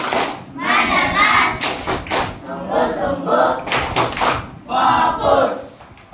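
An Indonesian classroom of students performs a rhythmic clap-and-chant routine, loud unison voices in bursts punctuated by sharp group claps and thumps in a quick, patterned cadence.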